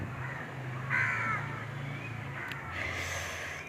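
A crow caws outdoors, two or three harsh, raspy calls at moderate distance over a faint background hum, with no talking.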